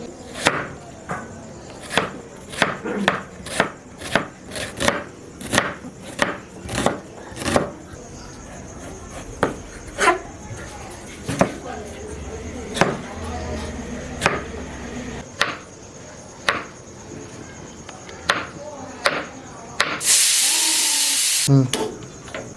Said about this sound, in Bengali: তার মধ্যে আমরা পেঁয়াজটা আর টমেটোটা কেটে নেব